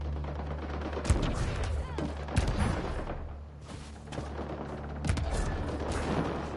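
Gunfire in the video game Mass Effect Andromeda erupts in sharp bursts of rapid shots with a few louder cracks, set against a busy rumbling game background.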